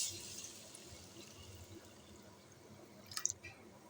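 Water poured onto moong dal in a bowl to soak it, a soft steady pouring hiss that gradually fades, with a few faint drips near the end.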